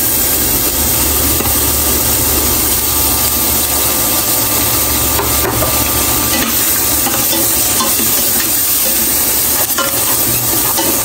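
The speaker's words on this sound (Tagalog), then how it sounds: "Lalagay ko na po ang bawang sibuyas." Garlic and onion sauté in margarine in a casserole, a steady loud sizzle with stirring scrapes running throughout without pause.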